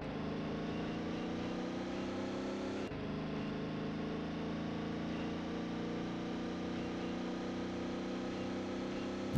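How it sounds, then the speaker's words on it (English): A worn race car engine in ToCA World Touring Cars drones at high, steady revs for several seconds, a continuous buzzing whine that dips briefly once, loud and with no other sounds. "The engine is way too knackered."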